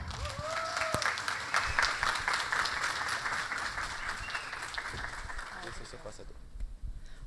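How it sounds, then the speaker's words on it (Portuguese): An audience applauds a speaker taking the stage at a Campus Day event in Boa Vista, moderate clapping of a medium-sized crowd under background voices, fading out near the end. "recebam com uma salva de palmas, no palco da Campus Day"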